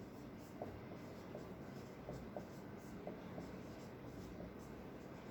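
Faint scratchy marker or chalk strokes on a board while an equation is written in a math lesson, soft irregular taps and scrapes under a quiet room hum, no clear talk.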